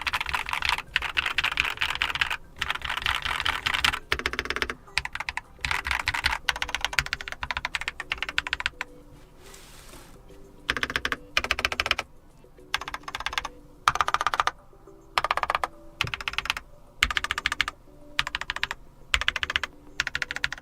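Typing on a Keychron K8 QMK Version 2 mechanical keyboard: close, crisp bursts of rapid keystrokes in uneven runs separated by short pauses, with no talking.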